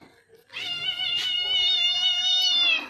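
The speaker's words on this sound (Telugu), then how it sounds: "ఆ పిల్లి బయట అరుస్తుంటే" A cat outside meows in one long, drawn-out, insistent wail, fairly close and loud, with faint background noise before it begins.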